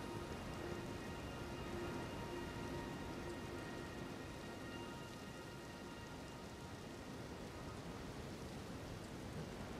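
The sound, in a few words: rain and thunder from the video game Elden Ring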